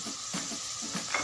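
Three chopped chilies and two whole ones fry in hot oil for an aloo masala potato dish, making a close, steady, hissing sizzle with faint bubbling pops.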